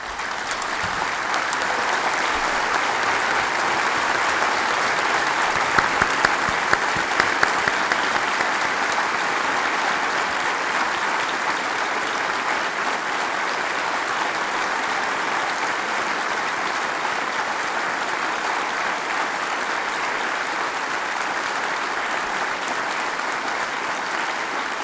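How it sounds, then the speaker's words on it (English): An audience in a legislative chamber applauds during a State of the State address, a steady, dense clapping that runs unbroken for about twenty-five seconds at a moderate distance. "if you would give her a round of applause"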